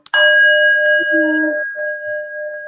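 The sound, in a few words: bell ding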